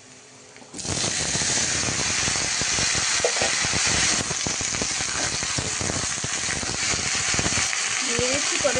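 Okra, brinjal and cucumber drop into sizzling onions in a kadai, and the steady frying hiss jumps loud about a second in, staying close and continuous with the clatter of stirring.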